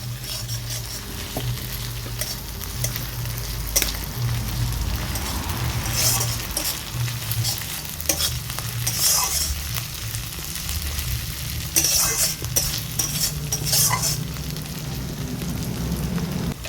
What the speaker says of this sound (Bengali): আমি এখানে 2-3 কোয়া রসুন থেতো করে নিয়েছিলাম, ওটা দিয়ে দিলাম। দিয়ে দিচ্ছি আদা বাটা, এটা মিশিয়ে নেব